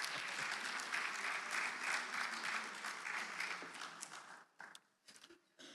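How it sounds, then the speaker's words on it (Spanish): A church congregation during a sermon breaks into sustained applause, loud and dense for about four seconds before thinning into a few scattered claps. "Dale un aplauso al Señor."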